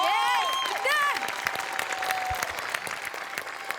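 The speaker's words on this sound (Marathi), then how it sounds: "प्रथमेश तुझ्यासाठी जोरदार टाळ्या" Studio audience on a Marathi comedy show breaks into loud, sustained clapping and cheering, starting under a host's voice and whistling tones, then continuing as dense applause that fades slightly toward the end.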